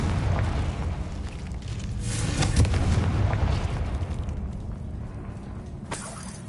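Confringo blasting spell explosions in Hogwarts Legacy, deep booming rumbles swelling midway with crackling bursts, then fading before a sharp final pop near the end.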